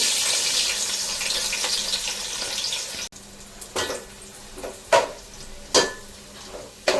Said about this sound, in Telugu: మనం సన్నంగా తరిగి పెట్టుకున్న ఆనియన్ ముక్కల్ని అందులో వేసి ఫ్రై చేయాలి